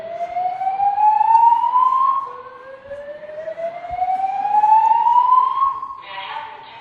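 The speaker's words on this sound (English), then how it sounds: "The alarm you have just heard is part of the hotel's early alert system." A hotel early alert system alarm sounds as a loud electronic siren tone sweeping slowly upward, repeating in long rising glides, with a short burst of other noise at the end.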